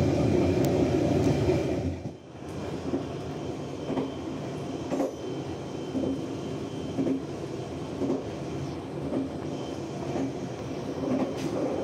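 Steady rumbling of the KA Airlangga economy-class passenger train rolling along rails between Jakarta and Tegal, with a continuous low roar and faint rhythmic clatter throughout, heard from inside or close by.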